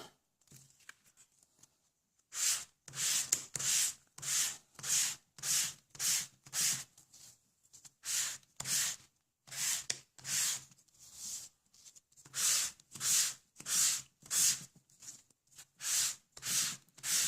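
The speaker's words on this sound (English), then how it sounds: "So we're actually going to sand this again." Glossy white cardstock being sanded by hand in repeated rhythmic strokes, about twenty close, crisp scratchy rubs in steady succession with brief pauses between, no voices.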